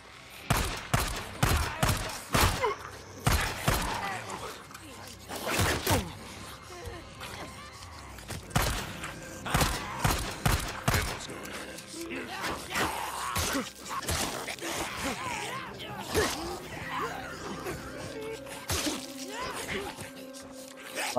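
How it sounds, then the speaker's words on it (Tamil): Bursts of machine gun fire in the video game Days Gone, irregular loud volleys with some sharp impacts, spread over a long stretch while someone talks over the action. "மிஷின் கன் யூஸ் பண்ணலாம்"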